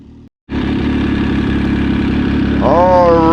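A 2020 MV Agusta Brutale 800RC motorcycle engine idles steadily and close by after a brief pause, holding a constant throaty rumble, with a whistling tone rising over it toward the end.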